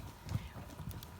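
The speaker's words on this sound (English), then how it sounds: "now we're checking out the horses" Horses' hooves clip-clopping at a ranch in the evening, a steady, uneven series of soft thuds, close but fairly quiet, with no talking over them.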